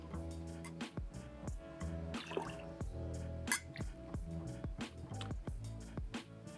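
Hot espresso is poured into a cocktail shaker already holding liquid, producing close, quiet splashing and dripping with repeated small liquid plops.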